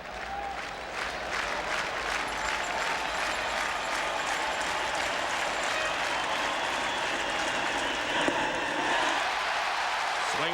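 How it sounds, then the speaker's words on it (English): Big crowd at a 1992 ALCS Game 6 baseball game between the Oakland A's and Toronto Blue Jays, cheering and applauding steadily and loudly throughout, a dense continuous roar with no talk. "We said it was a late arriving crowd, but they are as vocal as they were in the first 2 games of this series"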